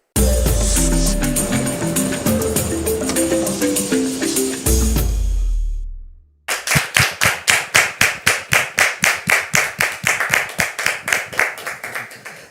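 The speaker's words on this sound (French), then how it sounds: "Ces applaudissements sont le signe également, la marque déposée de cette émission" Musical tones give way to a studio audience's round of rhythmic clapping on a television show, many hands striking together in a steady, repeated beat, loud and close.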